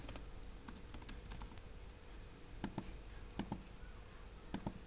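Fast typing on a computer keyboard, quiet clusters of key clicks in a few short bursts, alone over a faint steady background hiss.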